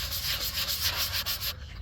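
Steady scratchy rasp of sandpaper rubbed back and forth, close up and continuous, stopping abruptly near the end.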